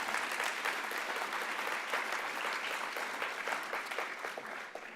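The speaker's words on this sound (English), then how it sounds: "So can we get a round of applause for our up-and-comers?" A gala audience at a mentoring awards event applauds steadily, a dense, even wash of many hands clapping that holds at a constant level throughout and eases slightly at the end.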